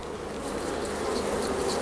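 Honey bees buzz steadily at an open beehive during a queen-rearing grafting session, a dense, continuous close-up drone that swells slightly toward the end, with no talking.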